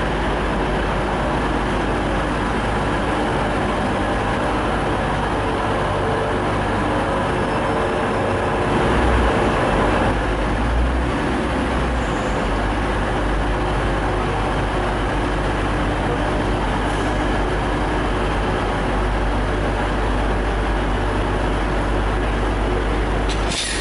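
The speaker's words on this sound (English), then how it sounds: "here's the portion arriving in from Blackpool North, which is going to stop just in front" A passenger train portion arriving from Blackpool North rolls into Preston station and draws to a stop, giving a steady, loud low rumble of rail movement and engine noise throughout with no talk.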